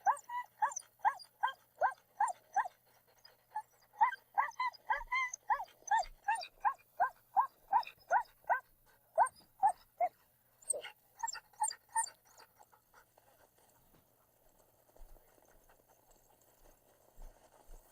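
A team of sixteen sled dogs at a snowy race checkpoint at Finger Lake barks in a rapid, steady run of close, loud yaps, then breaks into scattered whimpers and yips before quieting.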